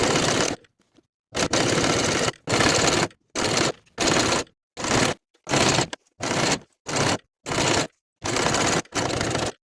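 A sewing machine top-stitching a quilted jacket runs in about ten short bursts of rapid mechanical whirring, each lasting under a second and separated by brief silent pauses, close and loud with no voices.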